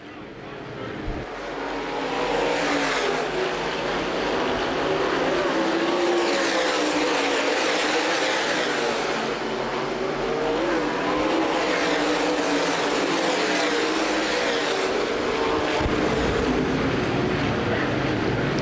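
USA Modified Series stock race cars racing at Winchester Speedway during the 2011 World Stock Car Festival: loud, continuous engine roar from multiple cars rising and falling as they pass, with a commentator talking over it.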